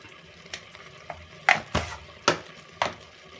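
Mutton masala sizzles in a pan while a spoon stirs it, a soft frying hiss broken by several sharp scrapes and knocks against the metal, close and clear with no talking.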